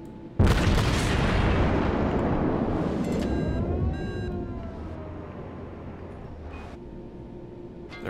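Deck guns on the German battleship Tirpitz in World of Warships fire with one loud booming blast, followed by a long rumbling fade and some faint, distant shots later.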